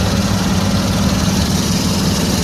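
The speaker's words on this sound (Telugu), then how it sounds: "ఇంజన్ అయితే రన్నింగ్లో ఉంది" A Maruti 800 car engine idles close by, a constant low rumble with even vibration and no changes in pitch throughout.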